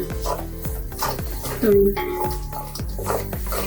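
Raw coconut roasts in a pan for a spicy village-style mutton masala: close, rhythmic scraping strokes of a spatula against metal, about two per second, with a faint voice in the background.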